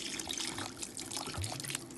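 Water pours into a pot of chicken and butternut squash with a continuous splashing, trickling rush, close and fairly loud throughout, with no talking.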